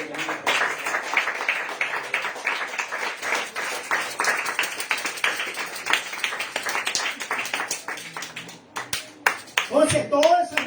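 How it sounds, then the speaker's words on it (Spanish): A church congregation claps for the Lord during a Spanish-language sermon, with rapid, somewhat uneven clapping that thins out toward the end before a voice cuts in. "Mis amados hermanos, den aplausos al Señor."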